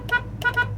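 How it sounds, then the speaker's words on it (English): A 1968 Chevrolet Chevelle's horn sounds in three short, loud, close blasts, one and then a quick pair, over a low idling hum. "Horn."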